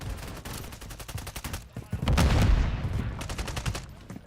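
Modern Warfare 3 gunfire in a chaotic match, with rapid repeated shots crackling close and loud, swelling into a dense burst of blasts midway, then more scattered reports; the sniper rifle is not distinguishable among the automatic fire.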